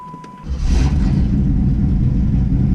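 A Chevrolet Camaro Z28 engine rumbles loudly up close, starting with a steady idle and a faint tone, then revving up and holding a strong, even roar with no talking.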